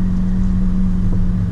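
McLaren 570GT creeping off from a standstill with no throttle, a steady low engine hum at close range with no change in revs.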